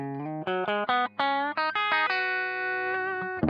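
Single-note electric guitar phrase through an amp at the edge of breakup, mild distortion on each picked note, ending on a long sustained note, close and clear with no voices.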